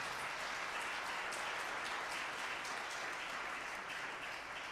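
Applause for a church choir after their singing at a music event, a fairly quiet but continuous patter of many hands clapping from a modest crowd, sustained evenly throughout.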